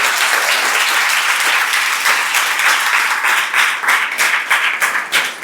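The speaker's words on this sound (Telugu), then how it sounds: "ఇక్కడ ఉన్న టీచర్స్ అందరికీ కూడా ఫస్ట్ ఆఫ్ ఆల్ మరొక్కసారి చప్పట్లు కొట్టాలి" An audience claps for the teachers, loud dense applause filling the room continuously from start to finish, with no break in the clapping.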